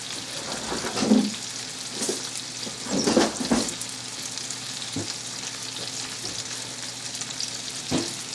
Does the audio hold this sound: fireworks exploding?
no